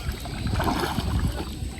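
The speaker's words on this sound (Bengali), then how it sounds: "অনেকদিন বাদে কিন্তু দাঁড় টানতেছি" Wooden oars pull a small boat along a Sundarbans river, giving soft splashes and a low rhythmic knock of the strokes, heard close and fairly quiet with light wind noise and no talking.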